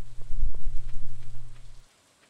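Rain falling in the Stardew Valley farming game, a steady patter for about two seconds that cuts off abruptly into near silence, with no voices.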